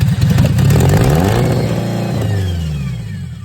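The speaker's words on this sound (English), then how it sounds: "So I gave it some starter fluid, fired right up." A right-hand drive Toyota Corolla AE92 engine catches on starter fluid and revs hard, a loud close roar with clattery overtones that settles toward a steadier idle.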